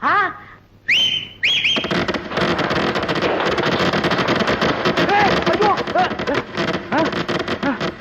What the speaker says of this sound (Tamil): டேய் என்னடா அது விசில் வேட்டு சத்தமா?